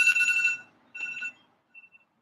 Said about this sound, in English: You know, why my alarm doesn't keep going off.